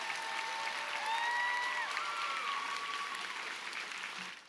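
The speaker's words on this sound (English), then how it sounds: "give her a big round of applause" A large audience applauds a graduate at a university commencement ceremony, a broad steady wash of clapping with some cheering whistles, sounding somewhat distant and fading out at the end.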